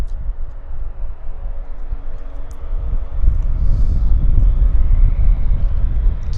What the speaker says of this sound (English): Majestic takeoff.